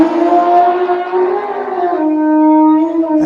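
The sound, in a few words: elephant trumpeting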